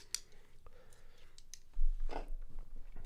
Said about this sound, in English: Whatever it is about clicking noises,